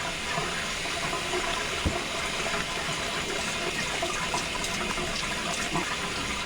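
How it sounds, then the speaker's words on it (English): Steady running tap water splashes continuously into a sink while facial hair is rinsed after pre-shave soap, a close, even rush with no talking. "I'm going to go ahead and wash out my facial hair."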